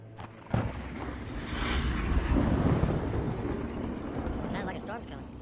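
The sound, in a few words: thunderstorm approaching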